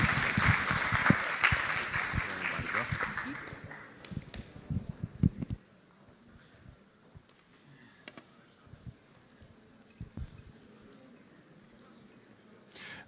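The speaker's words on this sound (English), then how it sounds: "applause" An audience at a blockchain meetup applauds after a presentation, with loud clapping for about four seconds that fades to scattered faint claps and quiet room noise.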